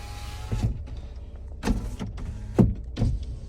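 Car power windows whirring in several short bursts, each a brief motorized hum ending in a soft thunk, fairly close with quiet pauses between.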